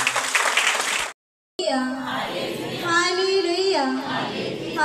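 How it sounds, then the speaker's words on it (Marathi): A prayer congregation claps loudly, then the sound cuts out briefly and returns as children's voices and singing over scattered clapping. "आपण जोरात टाळ्या वाजवून प्रभूला धन्यवाद देऊया"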